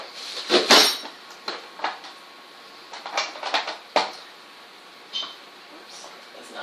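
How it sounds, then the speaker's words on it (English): Irregular sharp clicks and clacks from a food chopper chopping onions, with short bursts and pauses, close by and moderately loud. "now my onions are all chopped up"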